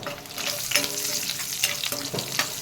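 Tempering spices and garlic fry in hot oil for dosakaya chutney in a village kitchen, giving a steady loud sizzle and crackle with stirring throughout, close by with no talk.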